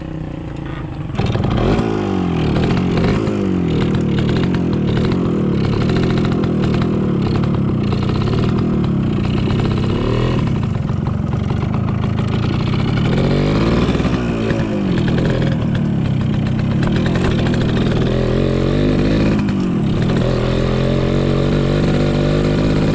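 A motorcycle engine runs nearby at a farm where unripe papaya is harvested, putting out a steady, rough clattering drone with several rising and falling throttle swells, loud and close for the whole stretch.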